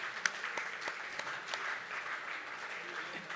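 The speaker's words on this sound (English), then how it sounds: "Round of applause, maybe?" An audience at the Sports Illustrated Sportsperson of the Year 2017 award ceremony gives a round of applause, a soft, steady wash of clapping heard from a distance.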